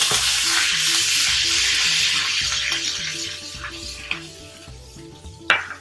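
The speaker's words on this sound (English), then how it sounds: "Nice sizzle." Curry leaves sizzle loudly in hot ghee, a steady crackling hiss that slowly fades, with a few clinks of a utensil against the pan.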